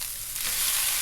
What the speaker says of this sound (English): Turn them over every once in a while and they're a nice sizzle.